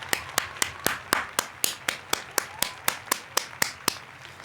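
A single pair of hands claps in a steady, even rhythm of about four claps per second, sounding close and fairly quiet, with no crowd around it.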